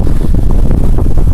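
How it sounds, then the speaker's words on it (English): A strong wind of about 30 miles an hour blows with gusts during a South Dakota snowstorm in below-zero cold, a loud, steady low roar buffeting the microphone throughout. "The wind is blowing about 30 miles an hour with a few gusts here and there"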